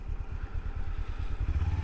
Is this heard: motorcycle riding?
yes